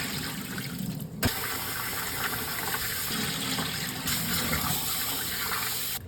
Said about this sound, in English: And you're washing the rice until the water becomes clear to get rid of all of that extra starch